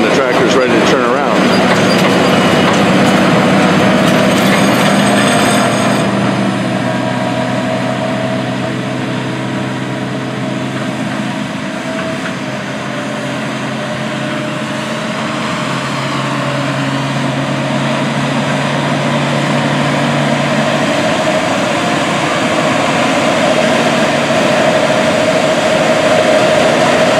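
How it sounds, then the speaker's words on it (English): A Case IH Quadtrac 620 hp tractor pulling a 9-shank ripper through a field in Western Kentucky in fall, heard as a loud, steady engine roar and heavy drone that holds for the whole stretch. "this 9-shank ripper is really putting this big tractor to work"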